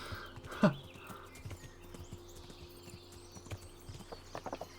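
Horse hooves clip-clop across the ground in the medieval game Kingdom Come: Deliverance, a quiet irregular string of nearby thuds, with a brief louder snort or whinny near the start.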